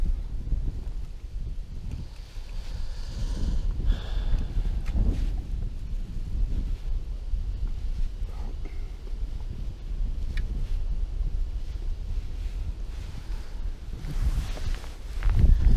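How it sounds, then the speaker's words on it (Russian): Steady wind buffets the microphone with low rumbling gusts throughout while fishing outdoors in Ryazan Oblast, plus faint rustling and occasional knocks. "Ветер по-прежнему мешает нам рыбачить."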